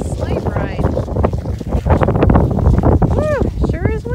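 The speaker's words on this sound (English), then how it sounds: "sure is windy" Strong wind blowing outdoors in snow at about 11 degrees, a steady gusty rush with wind buffeting the microphone and children's voices speaking and calling over it.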